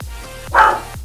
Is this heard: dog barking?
yes